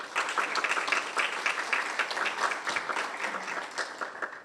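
An audience at a club luncheon forum gives sustained applause, a steady moderate wash of many hands clapping at some distance, with no speech over it.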